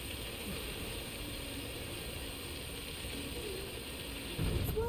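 A wooden mechanism grinds in A Plague Tale: Innocence, a steady dense rasping texture that runs without a break and swells slightly louder near the end, with no talk over it.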